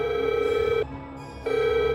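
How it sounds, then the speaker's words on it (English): A telephone rings with a steady electronic tone, one long ring, a short pause, then the next ring starting, clear and close with no voices. "I received a phone call that would upend my world."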